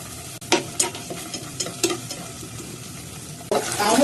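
Red and green peppers stir-fried with soybean paste in a wok, several scraping stirring strokes over a soft sizzle, swelling into a louder burst of frying at the end.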